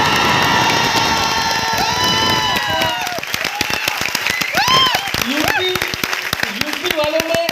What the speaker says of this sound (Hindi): आपका जब यूपी का बंदा स्टेज पे आता तो बेस्ट ताली बजानी चाहिए